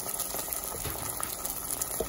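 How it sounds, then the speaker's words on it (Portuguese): Tomato sauce with sausage and a little added water bubbles and simmers in a pan, a steady close crackle and burble with no talk. "E vou deixar agora esse molho dar uma reduzida."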